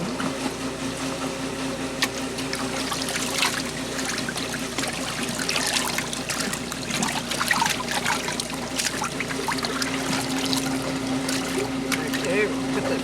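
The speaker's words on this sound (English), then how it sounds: "Stick your hand in and rinse the cavity out." Running water trickles and splashes while a processed Cornish chicken's cavity is rinsed by hand, a continuous close wash of water with a steady hum beneath and light handling noises.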